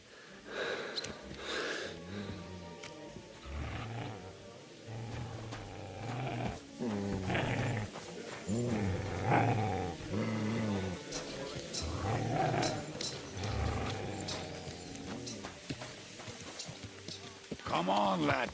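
A dog in the video game Kingdom Come: Deliverance II growls and snorts repeatedly, partly buried under ongoing game dialogue and background sound.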